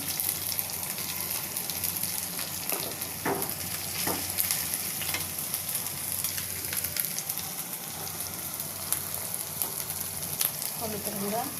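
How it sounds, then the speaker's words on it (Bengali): Ginger-garlic and cumin paste fries in a pan for beef bhuna, catching on the bottom, with a continuous close sizzle broken by occasional stirring scrapes. "মশলাটা ভাজা হয়ে গেছে, নিচে লেগে যাচ্ছে"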